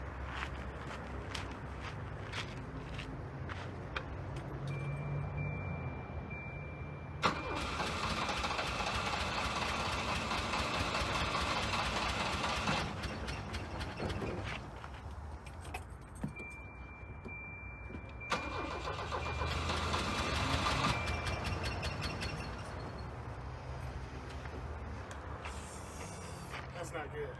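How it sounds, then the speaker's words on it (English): A Volvo 240 engine cranks and catches twice, running roughly as if on one cylinder, with starter whine and uneven engine bursts between quieter stretches, close by, with a voice talking at times. "it's not running on all cylinders. It only sounds like one cylinder is firing."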